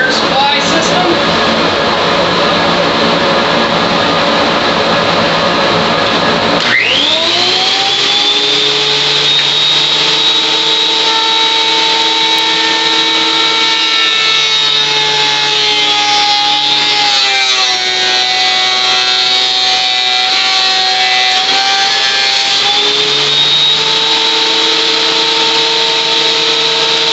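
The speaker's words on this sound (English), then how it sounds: "Go ahead and use your old trusty planer. Turn on our air supply system." An electric power planer shaves down wood for a chicken nest box while an air supply system runs, a loud sustained whine that kicks in sharply and holds steady with slight pitch dips as the blade bites.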